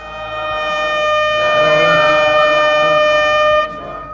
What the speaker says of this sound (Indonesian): Ketika sirine yang berbunyi